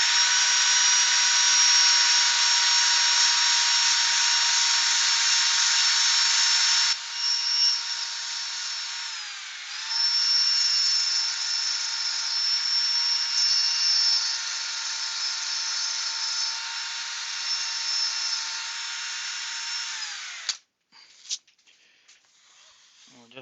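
Sanding with 80 grit sandpaper on a turned wooden goblet makes a loud, steady, high-pitched whirring with a slight dip partway through, then stops abruptly near the end.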